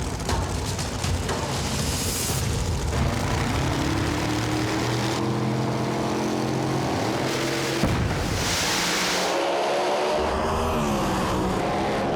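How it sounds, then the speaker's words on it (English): A Street Outlaws drag race car roars loudly in the right lane, then a sharp bang marks its engine blowing out the burst panel, followed by a changed, ragged engine roar. "Frank Taylor blows the burst disc out in the right lane"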